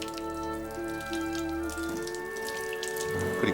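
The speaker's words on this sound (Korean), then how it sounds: "깊은 밤 정적을 깨는 물소리" Water trickles and drips in a quiet night-time setting, a faint steady running sound with scattered droplets, alongside a low sustained tonal hum.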